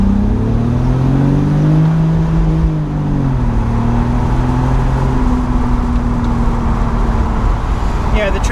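A BMW Z3 with an automatic transmission accelerates, its engine drone rising in pitch and then dropping as a gear change comes through, heard from inside the car with a steady road roar underneath.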